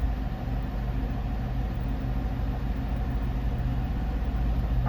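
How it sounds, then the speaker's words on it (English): A 5.7 Hemi V8 fitted with a stage 2 cam idles steadily, a loud, close, continuous low rumble with a choppy, even pulse and no talking over it. "It's idling, man."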